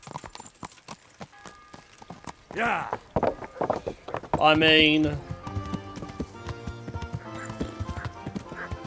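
Horse hooves clip-clop steadily on the ground in Kingdom Come: Deliverance, with a neigh rising midway, all beneath ongoing conversation between players.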